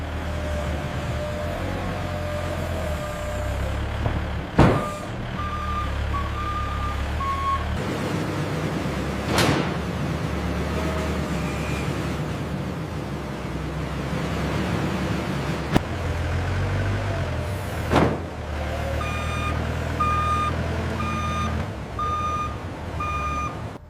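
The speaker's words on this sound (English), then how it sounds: "The cornflakes are loaded onto the truck, ready for their journey across the country." Truck being loaded with cornflakes at a cereal factory: steady industrial hum and engine rumble with sharp clanks and thuds, repeated electronic reversing beeps in short bursts, no voices.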